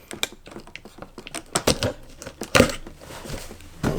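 Someone cuts open a cardboard shipping case of Hot Wheels cars with a blade, giving close, irregular scratchy slicing and crinkling clicks in short bursts.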